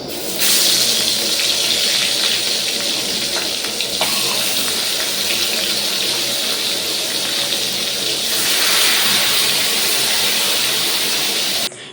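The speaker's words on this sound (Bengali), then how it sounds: "তারপর কড়াইটা ধুয়ে এবার রান্নাটা বসাচ্ছি" Water from a tap gushes steadily over a kadai (wok) being rinsed in a home kitchen after cooking greens, a close, continuous hiss lasting about twelve seconds with a slight shift partway through.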